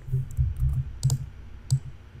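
Fingers type on a computer keyboard in short, quick clusters of light plastic key clicks with brief pauses between them, soft and close.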